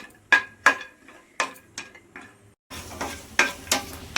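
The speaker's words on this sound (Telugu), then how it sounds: "ముందు మనం డ్రై ఫ్రూట్స్ వేయించుకుందాం సిమ్లో పెట్టి వేయించుకోండి" Dry fruits frying on low heat in a pan, stirred with a utensil: a string of sharp scraping clinks comes first, then a steadier soft sizzle with more scrapes, all close and fairly quiet, with no voices.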